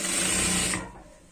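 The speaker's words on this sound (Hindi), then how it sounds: "इसको यहाँ से सील देना होगा यहाँ पर इस तरह से" A sewing machine stitches along a trouser pocket to seal it, a brief loud mechanical whir at close range that cuts off and fades within about a second.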